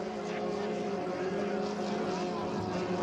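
A 2.5L racing hydroplane accelerating out of a turn, its engine a loud, sustained buzzing drone with strong harmonics that holds steady, heard with a crowd or commentary murmur underneath.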